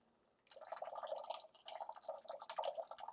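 Tomato juice pours into a meat sauce made with wine, a soft close trickle and splash in two bursts after a brief quiet start.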